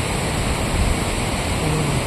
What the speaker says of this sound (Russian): Офигенный водопад.